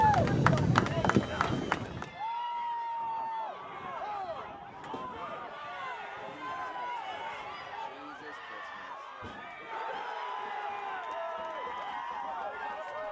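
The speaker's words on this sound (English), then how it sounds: "One more round of applause to the Hartford Hawks class of" A crowd applauds the Hartford Hawks class of 2015 seniors on men's lacrosse senior day. Loud, dense clapping lasts about two seconds, then cuts away to someone talking over faint background noise.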